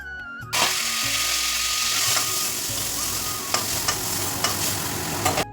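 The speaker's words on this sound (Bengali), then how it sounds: "ওদিকে তো চিংড়ি মাছটা ভাজা হচ্ছে, দেখো সেটা দেখাও যাচ্ছে কড়াইতে ভাজা হচ্ছে।" Prawns fry loudly in a kadai, a dense, unbroken sizzle starting abruptly after a brief pause, with occasional small clicks and pops from the pan; no one speaks.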